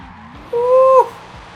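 A V8-swapped Nissan 350Z drifts in Forza Horizon 5, letting out a loud, sustained tire squeal of about half a second over a low engine rumble.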